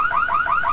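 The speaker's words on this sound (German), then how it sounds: "Wenigstens funktioniert die Alarmanlage, das wissen wir schon mal." Burglar alarm going off in The Sims 3, a loud, close warbling electronic tone with rapid repeating upward sweeps, about four cycles with no talking.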